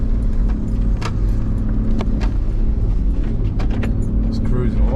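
A Toyota 80 Series Land Cruiser drives along a hot, powdery sandy track, its engine rumbling steadily up close with rattles and jangling from the cabin, while someone talks intermittently over it.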